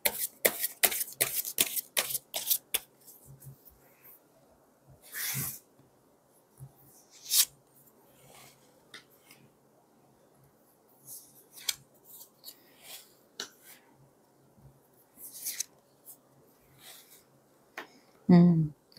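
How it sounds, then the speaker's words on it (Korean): Tarot cards are handled in a quiet room: a quick burst of crisp shuffling snaps, then scattered single flicks and slides as cards are drawn and laid down, with long hushed gaps between them. "현재 어떤 마음일지 제가 카드를 뽑아 보도록 할게요"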